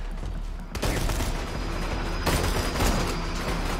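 Gunfire in the video game Borderlands 2, heavy booming shots and rapid bursts that blend into a dense, loud barrage with a sharp surge near the start and another partway through.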